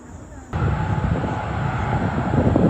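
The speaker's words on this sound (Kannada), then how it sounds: "ಫ್ಲೈಟ್ ಹೆಂಗ್ ಬರ್ತಾ ಇದೆ ನೋಡಲ್ಲಿ" A large airliner flies low near Kempegowda International Airport in Bengaluru, its engine roar swelling in suddenly and holding as a loud, steady broadband rumble, with people talking nearby.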